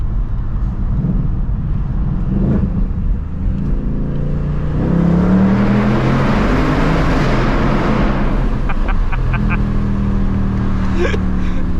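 A 2024 Ford Mustang GT engine revs and roars loudly with a throaty exhaust, rising and falling as it accelerates and downshifts, with someone talking over it.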